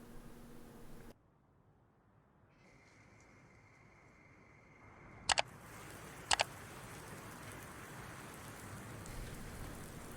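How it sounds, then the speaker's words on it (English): Rain falls in Farming Simulator 19 as a soft, even hiss of drops, with a gap of quieter ambience and two short ticking clicks partway through. "raining again"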